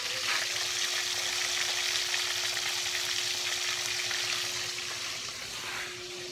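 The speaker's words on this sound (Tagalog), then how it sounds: "nagpiprito ng isda sa pares ng labong yan" Fish frying in hot oil indoors with bamboo shoots gives a steady, dense sizzle that stays loud throughout, easing slightly near the end, with a faint hum underneath.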